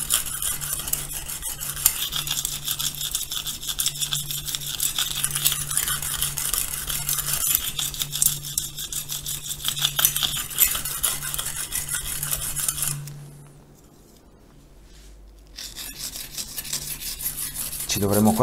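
A harsh, continuous rasping scrape of a Japanese Ryoba knife worked against the grooved side of a grinding plate, steady for a long stretch before stopping.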